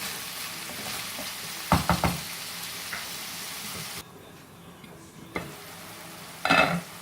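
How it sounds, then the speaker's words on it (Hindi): Minced mutton with masala sizzles and fries in a pan, with several sharp scraping stirs of a spoon against the metal over a steady hiss that briefly drops away, and no voices. "अब हमें इसी तरह से इसे भूनते रहना है जब तक कि हमारा"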